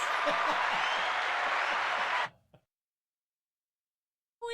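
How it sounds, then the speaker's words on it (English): A burst of crowd applause plays for about two seconds, then cuts off abruptly into silence before a voice briefly begins. "I meant to press the applause."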